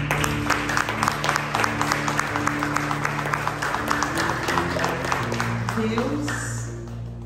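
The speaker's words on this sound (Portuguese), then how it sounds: "Aplauda o Senhor." Congregation clapping in a church service over sustained music, with rhythmic claps in a steady beat, then the sound thinning and fading toward the end.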